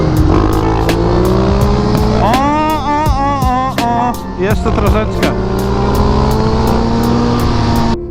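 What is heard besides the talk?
KTM motorcycle engine revving during wheelie practice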